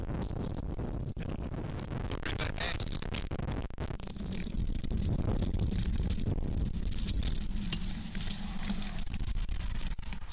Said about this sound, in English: it's very windy and cold and changeable out there